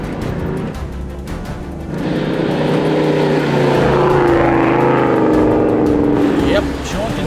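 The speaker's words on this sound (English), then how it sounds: "Just listen to that V8" A powerful V8 engine drones and climbs in pitch as it revs hard, loud and close, in the Simpson Desert, with a voice talking over it.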